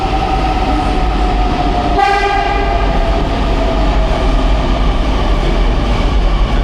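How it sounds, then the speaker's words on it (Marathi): A Pune metro train pulls in with a steady rolling rumble, and its horn sounds clearly once partway through. No one speaks. "तर आलेले आहे बघा मेट्रो ट्रेन, बघा कशी आहे पुण्याची."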